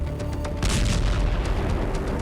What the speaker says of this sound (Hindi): आग की वजह से जोरदार धमाका हुआ